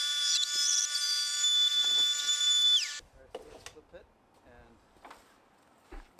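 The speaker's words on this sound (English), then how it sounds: "using the router to get the final finish" A router makes a finishing cut along a wooden desktop for a music studio desk: a loud, steady high whine for about three seconds that cuts off abruptly, followed by quieter knocks and handling sounds.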